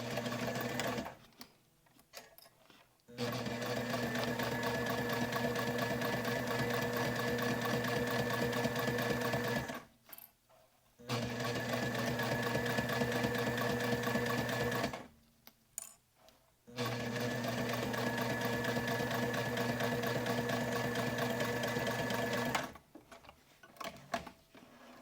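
Sewing machine top stitching fabric for a wallet, running in long steady whirring, chattering stretches close by, broken by three brief pauses where the motor stops before resuming.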